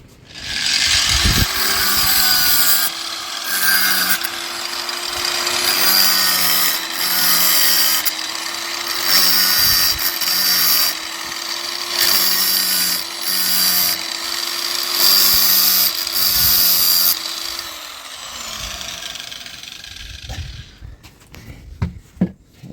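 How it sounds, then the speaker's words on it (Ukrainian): An angle grinder whines steadily while sharpening a saw chain, a harsh high-pitched rasp in repeated bursts of a few seconds, close and loud, then spinning down. "Адрезним точу ось цеп, а Другим камнем тачу на циркулярці пилу"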